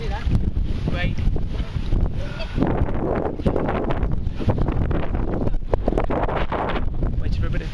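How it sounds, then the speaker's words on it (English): Strong wind buffets the microphone in a steady roar outdoors, with muffled voices partly buried beneath the gusting noise. "It's so windy today."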